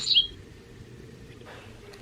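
A Wild Republic plush bird sound toy plays a dickcissel call, a short bright electronic chirp at the start, followed by quiet low hum.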